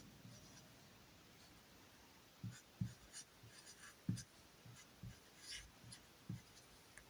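A pen writes numbers on paper in short scratchy strokes and taps, close and quiet, alone without talk.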